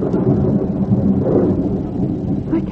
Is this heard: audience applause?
no